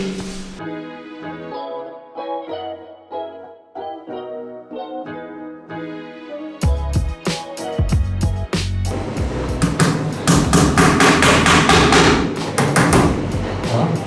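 Nails are hammered during a living and dining room makeover. Sharp, loud knocks come in quick irregular runs in the second half, following a stretch of tonal music-like sound, with the blows crowding together toward the end.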